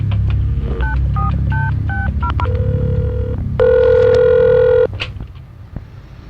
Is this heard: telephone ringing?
yes